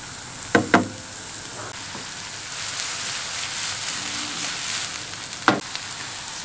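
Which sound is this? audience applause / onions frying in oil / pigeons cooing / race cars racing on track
onions frying in oil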